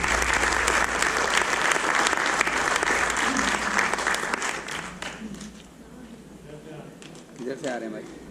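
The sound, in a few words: audience applause for a performer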